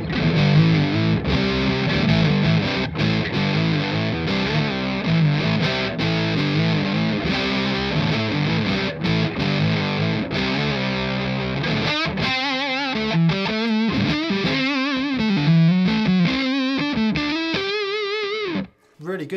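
Electric guitar run through a Thorpy Muffroom Cloud fuzz pedal into a Two Rock amp, a thick, saturated sustained riff that thins into brighter, wavering single notes near the end, close and loud.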